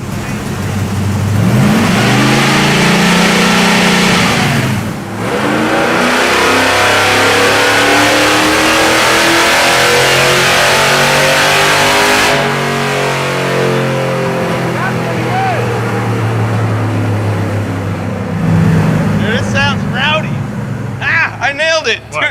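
Ice drag race car engine being tuned, revving loudly and steadily at close range with rising and falling pitch across long sustained pulls, a short drop midway, and brief voices near the end.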